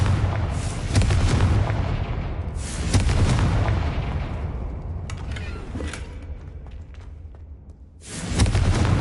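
Confringo fire spells blasting in the game Hogwarts Legacy, several heavy booming bursts with rumbling tails that fade between them, loud and close, the last blast hitting near the end.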